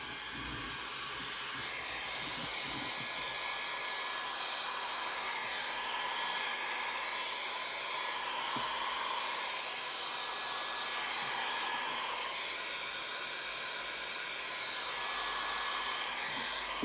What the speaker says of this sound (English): I'm going to take my heat gun now and try to gently move some of this around.